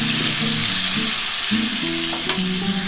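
Ginger and green chili paste frying in a pan for capsicum potato egg curry, a loud continuous sizzle with stirring scrapes and a few clinks of the utensil.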